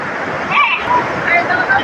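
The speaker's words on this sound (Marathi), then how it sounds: "नदीला पूर आलाय आणि एवढी तुंबड वाहून चालली" Loud, continuous rush of a flooded river's fast-flowing water, close and unbroken, with a voice talking faintly over it; the flood has closed the Yedshi–Kalamb road.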